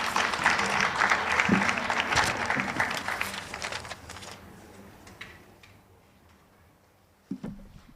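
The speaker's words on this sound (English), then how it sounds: "Another round of applause to His Worship, the Mayor." Applause from an audience at a business forum in Ongwediva, strong and dense for about four seconds, then thinning out to scattered claps and fading, with a brief knock near the end.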